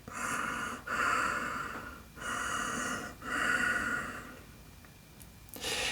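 Slow ujjayi ocean breathing during a breathwork practice, with long hushing, throaty breaths repeating in a steady in-and-out rhythm, close and clear with no talk.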